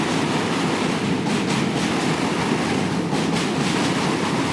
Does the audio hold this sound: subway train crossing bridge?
yes